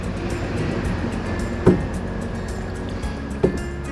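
A paddle dips and pulls through clear water as a small boat is rowed, giving two soft splashing strokes a couple of seconds apart over a steady background hum, with no talking.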